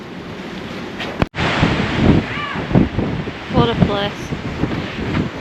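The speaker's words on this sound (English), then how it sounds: "Sorry about the wind" Strong gusty wind in the mountains of eastern Greece buffets the microphone with a rough roar while a person speaks briefly over it.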